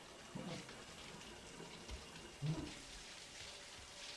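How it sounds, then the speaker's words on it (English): Steady shower water runs in the video game Death Stranding, a soft, continuous hiss of falling spray with no talk. "Time for a shower."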